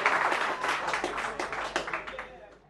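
A football crowd roars and cheers as Liam Brady scores his final goal, with loud dense clapping and a broad crowd noise that fades toward the end.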